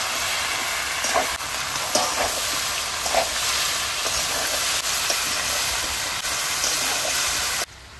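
Bottle gourd goes into a frying pan with fried prawns and sizzles. A loud, steady, hissing sizzle fills the whole stretch and cuts off abruptly at the end.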